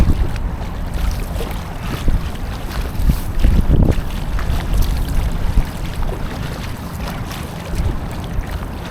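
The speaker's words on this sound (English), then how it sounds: "That wind's crazy." Strong wind buffets the microphone while kayaking on open water in New England in November, a loud continuous roar with gusts swelling around the middle and faint water lapping beneath, no talking.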